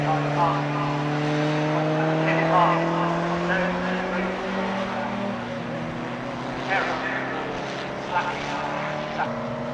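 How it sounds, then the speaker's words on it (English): A Triumph TR4 sports car races past at Silverstone during a sports car challenge, its engine a steady, loud drone with shifting pitch, heard under continuous race commentary. "Here's John Andon in the TR4 in 7th place, leading his class."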